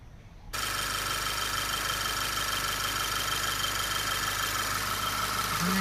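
An Audi A4 B8 2.0 engine starts abruptly and settles into a steady, close idle, a continuous even hum with a faint rattle throughout.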